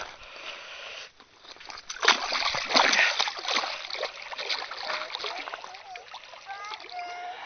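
A caught bass being released back into a lake makes sloshing splashes near the boat, the loudest water bursts around the middle of the clip and lighter sloshing continuing afterward.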